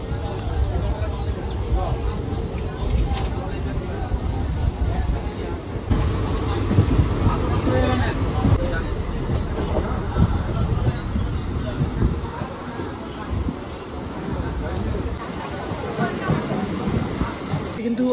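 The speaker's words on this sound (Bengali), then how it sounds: "আর এই সাইডে কিন্তু ট্রেন রয়েছে, ট্রেন কিন্তু বেরিয়ে যাবে কাটোয়া জাংশনের উদ্দেশ্যে একদম ডাইরেক্ট" Train standing at Nabadwip Dham station, bound for Katwa Junction, gives a steady low rumble with hiss and station bustle throughout, with voices mixed into the busy platform noise.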